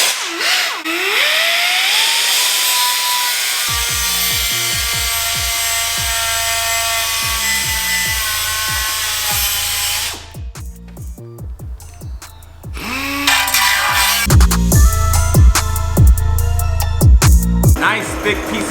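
Angle grinder cutting open a Corsa NPP valved muffler of thick metal, a loud sustained high whine that drops out midway, then rough grinding resumes, with a person talking briefly in the pause.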